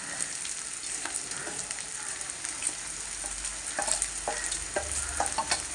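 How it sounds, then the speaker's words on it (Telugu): Ivy gourd frying in a pan as roasted peanuts are tipped in and stirred, a steady sizzle broken by scattered scraping clicks and small crackles that grow busier toward the end. "వేరుశనగ గుళ్ళు వేపి పెట్టాను కదా, అవి వేసేసుకుందాం."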